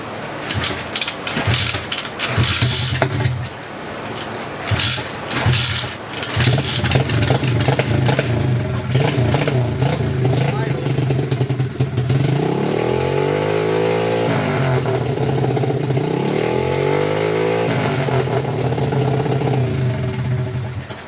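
An SSR 125 motorcycle engine runs close by with the choke fully on, sputtering and revving unevenly at first, then settling into a steady, rising high idle.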